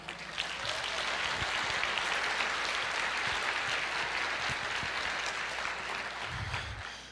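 A church audience breaks into sustained applause during a sermon, a thick, even wash of clapping from many hands that holds steady and then tapers off at the end.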